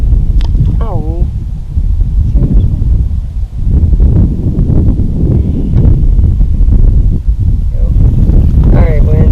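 Wind buffets a microphone outdoors beside a creek, a loud, steady low rumble filling the whole stretch with brief dips, while faint voice-like tones drift through near the start and end.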